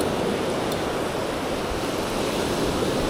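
Winter surf fishing from a beach, ocean waves breaking and washing in as a constant loud roar of surf with wind buffeting the microphone, no voices present.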